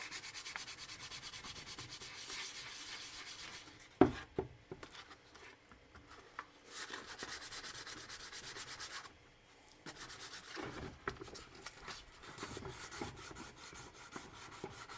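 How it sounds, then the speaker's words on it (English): Close, steady scratchy rubbing strokes of hand sanding on a cosplay armor piece for a Paz Vizsla build, rhythmic back-and-forth passes with a sharp knock and a couple of brief pauses between bursts. "we might need to do the hand sanding on this"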